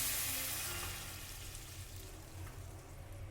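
Taro curry sizzling in a pan after hot water is added, a steady close hiss and bubbling frying sound that fades slightly, with soft low stirring noises and no talking.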